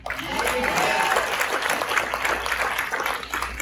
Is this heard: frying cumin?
no